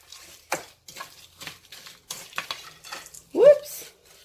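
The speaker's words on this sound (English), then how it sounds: "And you're just going to stir it up." Utensil scraping and clinking against a bowl while a scrambled hashbrown mixture is stirred, a series of short close scrapes with brief gaps, ending in a louder swirl.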